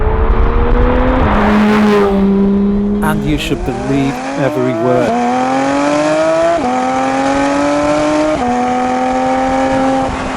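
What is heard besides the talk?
sports car engine revving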